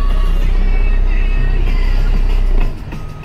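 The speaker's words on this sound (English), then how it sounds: "Let me start the truck." An Isuzu truck's diesel engine, earlier limited by a derate fault, runs loud and close with a heavy low rumble that settles to a quieter idle after a few seconds.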